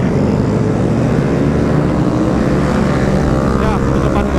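A motorcycle engine drones steadily and loudly close by, its revs easing off as the throttle is released, with street noise and crowd bustle around it.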